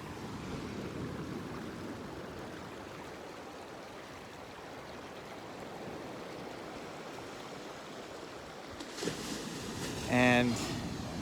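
Small creek flowing at a tiny swimming hole on the Lost Coast, a steady close rushing and babbling of water that fills the whole stretch, with someone talking briefly near the end.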